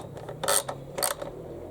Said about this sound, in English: I'll simply retighten the three nuts.